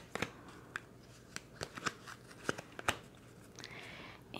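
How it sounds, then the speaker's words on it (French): Tarot cards drawn from a deck, giving soft crisp snaps and slides at irregular intervals, one card after another, close and fairly quiet, with no voice. "je vais aller chercher mes 3 cartes"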